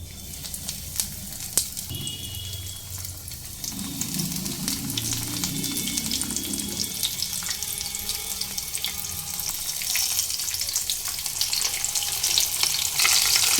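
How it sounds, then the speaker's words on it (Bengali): Pomfret fish frying in hot mustard oil on a gas stove turned to low flame: a steady, fairly loud broadband sizzle and hiss that carries on alone, swelling slightly toward the end. "তেল খুব ভালোভাবে গরম হয়ে এলে গ্যাসের ফ্লেম লো করে দেব দিয়ে একে একে কিছুটা মাছ ছেড়ে দেবো"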